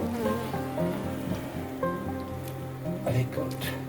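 A honey bee swarm drones at a hive in a dense, close, continuous buzz with shifting pitch. Handling knocks and a faint murmured voice sit underneath.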